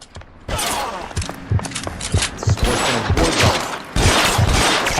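Repeated rifle gunfire in the video game L.A. Noir, with loud sharp shots and fusillade-like bursts crowding together over several seconds, close and dense with no speech.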